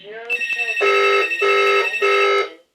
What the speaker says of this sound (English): So I just gotta let it ring until my answering machine comes on.